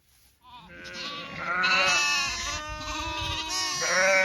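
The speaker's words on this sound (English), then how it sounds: "Moving the sheep" Several sheep bleat loudly and close by during a farm move, overlapping wavering cries that rise after a quiet start and continue almost without pause.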